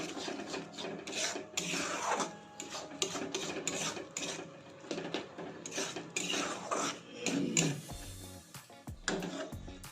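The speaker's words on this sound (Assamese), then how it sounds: "জিকাৰ পানীবিলাক এনেকৈ লৰাই দিছোঁ।" A spoon stirs ridge gourd curry in a pan as its liquid cooks down, giving steady scraping and rubbing strokes against the metal with occasional clinks, close and continuous with no talk.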